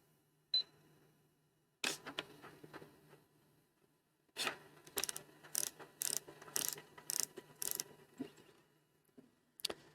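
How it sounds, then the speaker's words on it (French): Festool KA 65 Conturo edge bander purging glue, a sequence of sharp mechanical clicks and short whirring bursts, sparse at first, then a rapid cluster of repeated pulses. "je vais faire un appui long sur le bouton de démarrage jusqu'à ce que j'entende la machine purger la colle 2 fois"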